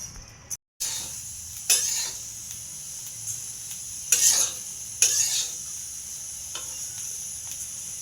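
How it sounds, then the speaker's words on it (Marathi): Coriander seeds dry-roast over low heat, making a gentle hiss with repeated scraping and rattling bursts as a spatula stirs them around the pan. "मस्त खरपूस भाजून घ्यायचं आपल्याला धने"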